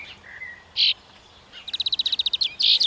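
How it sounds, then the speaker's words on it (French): European greenfinches with an elegant goldfinch and a male brambling at a garden in Ploufragan, Côtes d'Armor, giving a few short chirps, then a quick rapid series of trilled notes, close and clear over faint background hiss. "Avec ses verdiers d'Europe, il y a un chardonneret élégant et un pinson du Nord mâle."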